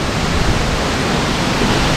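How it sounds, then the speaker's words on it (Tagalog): Strong wind roars in a dense, steady rush of noise, loud and unbroken for a couple of seconds. "lakas ng hangin malakas ng hangin"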